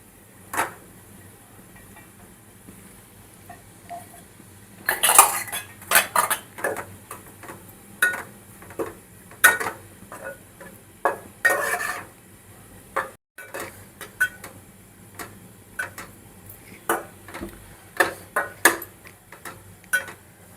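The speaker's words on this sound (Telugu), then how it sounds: "ఇప్పుడైతే స్టవ్ ఎక్కువ పెట్టుకొని అయితే దీన్ని ఇలా కలుపుకోవాలి రైస్ని." Sweet corn fried rice is tossed and stirred in a pan over high heat. A spoon clinks and scrapes against the metal in irregular close bursts, with a quiet hiss underneath.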